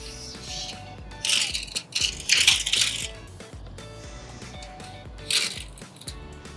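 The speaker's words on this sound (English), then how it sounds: "Come on, tape measure." A metal tape measure is pulled out across a Diamond C DET tilt trailer deck, giving a few bursts of ratcheting, rattling blade noise between quieter pauses, fairly close and moderately loud.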